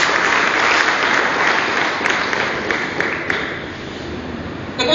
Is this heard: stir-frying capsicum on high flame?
no